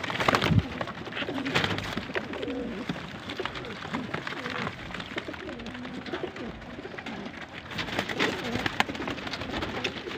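Pigeons coo softly in a low, rolling rhythm against a steady hiss like light rain, with faint movement nearby.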